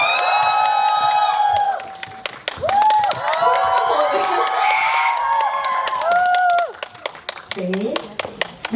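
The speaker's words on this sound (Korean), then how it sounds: "김재중 배우님, 그리고 또 영화에서 훌륭한 역할을 해주신 고윤중 배우님 모시겠습니다. 박수 부탁드릴게요." Cinema audience at a pre-release film screening with guest actors clapping and cheering, shrill excited shouts and whoops over dense applause, with a host's amplified voice in between.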